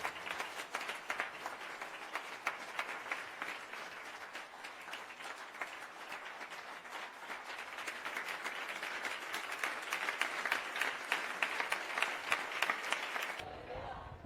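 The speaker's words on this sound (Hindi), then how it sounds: "तालियां बजाते रहिए, रुकने नहीं की तालियां।" Sustained applause from a church congregation, dense clapping that keeps on throughout and swells louder toward the end before stopping abruptly.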